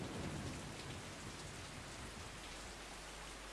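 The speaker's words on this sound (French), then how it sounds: "Pourquoi il y a des éclairs dans ma maison?" Steady heavy rain pours in the Saya no Uta video game, a dense continuous hiss with a low rumble of thunder underneath, unbroken for several seconds.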